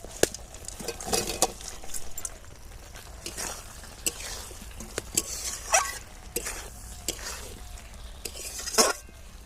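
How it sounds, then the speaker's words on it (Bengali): Fried elephant foot yam pieces being tipped into cooked spice masala in a pan, with scraping, clinks of a utensil against metal and light sizzling in irregular bursts, close by. "এবার এর মধ্যে ভেজে রাখা ওলগুলো দিয়ে দেব"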